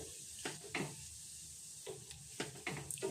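Gulab jamun frying gently over low heat in a pan are stirred slowly, a faint soft sizzle broken by several quiet, irregular stirring strokes with no talking.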